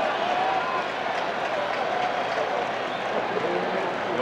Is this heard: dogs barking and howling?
no